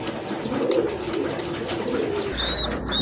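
Fancy pigeons coo softly at a pigeon sale, a low murmuring call repeating over steady background noise, with a brief higher chirp near the end and no talk.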